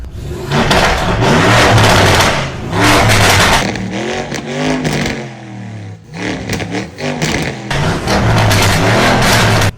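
A Lamborghini Urus SUV with a full titanium exhaust revs hard in Corsa track mode, loud and close, with repeated rising and falling engine blips, a brief pause near the middle, then more sharp revs.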